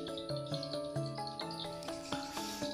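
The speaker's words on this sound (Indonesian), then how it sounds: "suara walet ini terdiri dari suara anakan, remaja, dan babon" Recorded swiftlet calls meant to lure birds into a swiftlet house play as a rapid, repeating series of bright, tonal chirps and twitters, steady and moderately quiet, with no talking.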